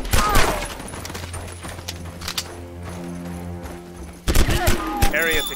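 Machine-gun bursts ring out during a firefight on a sawmill mission in the tactical shooter Conflict: Denied Ops, rattling in loud clusters early and again near the end, with voices talking over the shooting.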